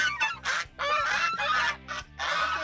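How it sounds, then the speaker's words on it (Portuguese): Several geese honk loudly and repeatedly in quick bursts, close by, one call overlapping the next with no talking. "de onde foi que esses gansos saíram?"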